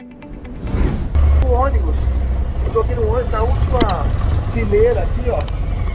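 Old New York City bus engine rumbling loudly and steadily up close, a deep continuous drone on a snowy day near Central Park, with someone talking over it throughout.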